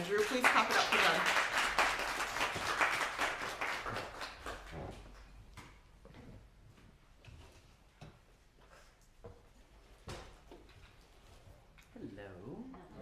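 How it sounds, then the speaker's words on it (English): Audience clapping for three performers introduced at a spoken-word event, loud and dense at first, then thinning into scattered claps and fading out as a voice begins to speak near the end. "Please clap it up for them."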